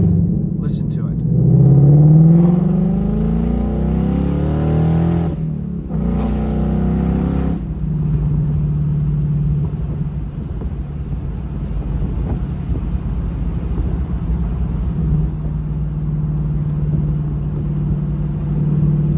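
A Ford Mustang GT Convertible's engine on its first drive of the 2023 season, a deep rumbling drone under a voice at first, then carrying on steadily with wind buffeting the open car.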